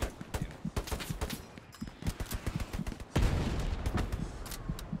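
Artillery and gunfire in the World War II shooter Hell Let Loose: a rapid string of sharp shots and cracks, then a heavy booming blast that rumbles on, all fairly faint and distant in the mix.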